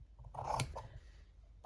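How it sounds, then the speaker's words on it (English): Scissors cutting fabric for an embroidery hoop decoration: a few soft, close snips, one crisp sharp cut in the middle, quiet and with no talk. "I'm going to grab my scissors and I'm going to cut"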